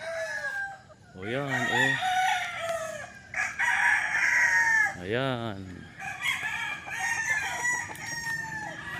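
Roosters at a chicken farm in Guerrero, Bauang, La Union crow loudly in two clear, close calls amid clucking and scattered fowl noise, while someone speaks briefly between them.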